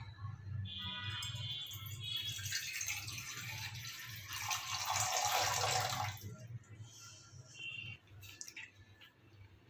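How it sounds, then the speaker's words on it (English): Water being poured into a milk boiling pan for making tea, a steady broadband splash and gush lasting several seconds at moderate loudness over a low background hum. "we are going to put water in the milk boiling pan."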